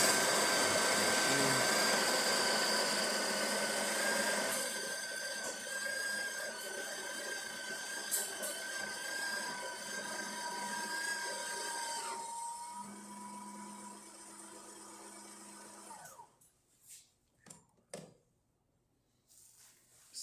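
A Breville Oracle Touch espresso machine, freshly serviced with a new gasket, pulls an espresso shot: a steady loud pump hum and whine that drops in pitch partway through, then cuts off into near silence with a few faint clicks.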